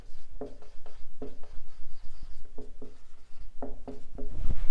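Chalk or marker scratching across a board in short repeated strokes, close and clear, with brief pauses between strokes and no talking.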